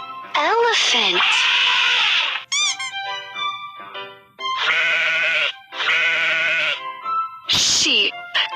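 Several loud, clear sheep bleats in a row, wavering and nasal, with short gaps between calls and no other sounds around them.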